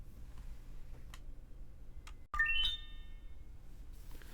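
A keypad chime sounds after a password is entered: a quick rising run of four or five bright electronic tones, preceded by faint ticks and a low background hum, with no voices.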